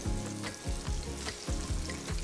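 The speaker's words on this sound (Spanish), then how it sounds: "Sigo friendo, que aquí solo falta comer." Crispy curry chicken fries in hot oil with a dense, steady sizzle and bubbling, with soft rhythmic stirring or clattering pulses throughout and no talking.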